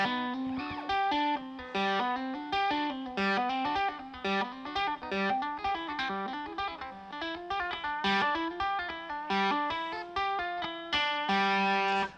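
Electric guitar tapping runs in A Aeolian with low distortion, fast ringing repeated note patterns played continuously and evenly at close range, with no talking.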